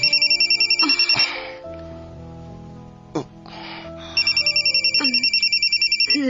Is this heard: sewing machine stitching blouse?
no